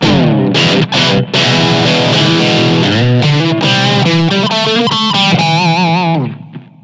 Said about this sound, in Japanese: これやっぱリバーブでホールリバーブ